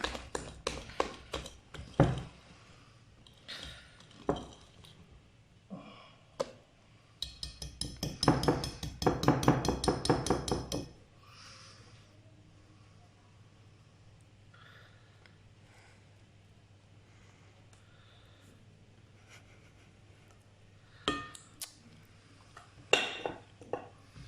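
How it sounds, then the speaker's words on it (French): Chocolate cake batter being stirred in a bowl, with clinks and taps of a utensil against the bowl in irregular bursts, a dense stretch of scraping near the middle, then quieter mixing under a low hum. "Fait en sorte que tout soit bien mélangé"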